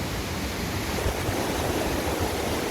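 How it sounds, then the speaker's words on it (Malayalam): River water rushing steadily downstream toward Athirappilly waterfall near Vazhachal, a dense, continuous broadband roar with no breaks, close and fairly loud throughout. "ഇവിടെ നിന്ന് വന്ന് ഇങ്ങനെ ഒഴുകിപ്പോകുന്ന വെള്ളമാണ് നമ്മുടെ അതിരപ്പള്ളിയിൽ പോയിട്ട് താഴത്തേക്ക് വീഴുന്നത്."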